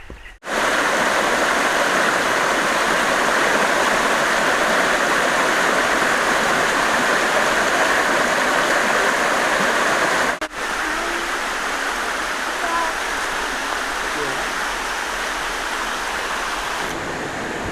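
Huai Mae Khamin waterfall pouring after a storm, a loud, steady broadband roar of falling water that continues unbroken apart from a brief dip partway through.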